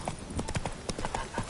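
Roach, a horse in the video game Witcher 3, gallops in a quick, uneven clip-clop of hooves, fairly faint and brief, with a voice briefly heard over it.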